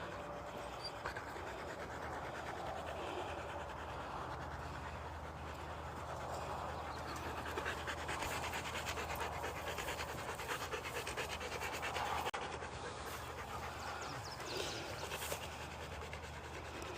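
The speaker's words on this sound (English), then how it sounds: "We're here walking the dogs." Dogs panting steadily on an outdoor walk, a continuous breathy rhythm close by under a constant low rumble of background noise.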